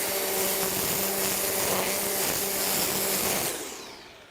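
A Makita XRU18 cordless string trimmer cuts grass with a steady, loud, high whine that holds for about three seconds and then winds down as the motor slows.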